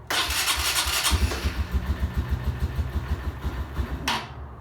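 Cold motorcycle engine on full choke cranks and catches, settling into a fast, lumpy, rhythmic idle close by, with a brief revving surge near the end.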